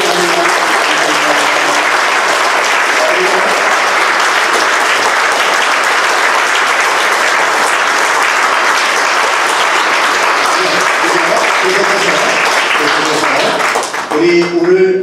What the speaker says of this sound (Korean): 다시 한번 뜨거운 박수 한번 해주시기 바랍니다.